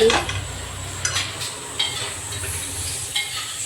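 Tea being stirred in a pot, heard as a soft continuous swishing and occasional light scrapes of a spoon against the metal over a low steady simmering background, with no talk.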